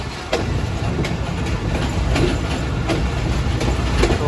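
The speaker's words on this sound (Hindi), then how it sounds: "कोटरी जंक्शन हमारी ट्रेन पहुंच रही है।" A passenger train running into Kotri Junction gives a loud, close rumble, its wheels clicking rhythmically over rail joints throughout.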